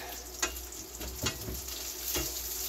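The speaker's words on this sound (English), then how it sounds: "This bacon cooks up quick" Bacon frying in a pan gives a steady close sizzle, with a few brief sharper pops and scraping taps scattered across it.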